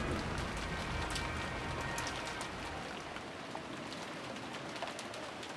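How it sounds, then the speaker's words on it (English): Wind and rain ambience in the visual novel game Umineko: When They Cry, a dense, steady hiss of rainfall with soft pattering drops, continuous and fairly quiet, with no voices. "there was no reply, only the howl of the wind and the rain."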